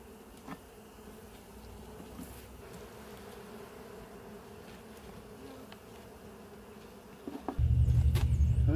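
A honeybee colony hums from an open hive on a warm late-February day, a steady low buzz with the odd single insect passing near. A sudden loud low rumble swells in near the end.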